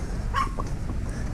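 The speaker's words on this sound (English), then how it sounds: "guard dogs coming to greet me" Guard dog giving a single short bark or yip of greeting at a basic, bare campsite along the Chiquitos Trail in San Ignacio, brief and fairly close, over a low steady background rumble.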